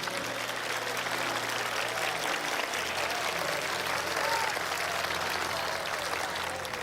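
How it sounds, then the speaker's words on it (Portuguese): A large crowd at a 1987 evangelistic gathering in Rio de Janeiro applauds, a dense, sustained wash of clapping that fills the space evenly from start to finish. "give the Lord a hand. Sim, vamos aplaudir o Senhor."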